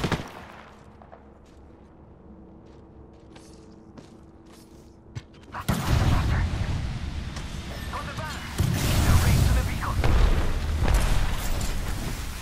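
Enemy gunfire in the battle royale shooter Apex Legends: after quiet ambient seconds, loud rapid shots and booming impacts erupt close by, continuing heavily to the end.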